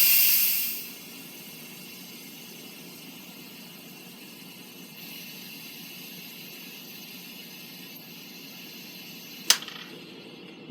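Steam hisses loudly from an Instant Pot pressure cooker cooking cabbage and pot roast as its pressure is released, a bright burst that drops quickly to a faint steady background hiss, with one sharp click near the end.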